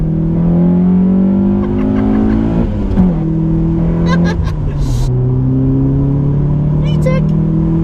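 A modified Honda Prelude's VTEC engine revs hard, pitch climbing and then dropping as the car accelerates and shifts, loud and steady throughout with a voice speaking over the engine.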